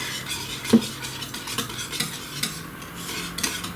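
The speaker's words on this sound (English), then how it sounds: "And just stir it in with the whisk." A whisk stirring homemade scented lotion mixed with moisturizer and oil in a bowl, close rhythmic scraping and wet swishing strokes with occasional light clinks against the bowl.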